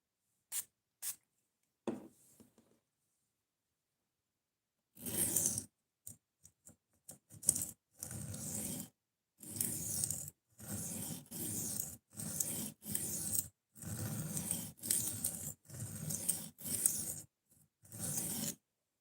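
A Spyderco Delica knife being reprofiled on a sharpening stone with light pressure: a steady train of short, rhythmic rasping strokes, quiet and close, after a few sparse scrapes and taps.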